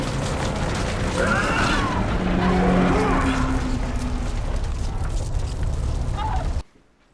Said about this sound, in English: that's the car that she starts in the first one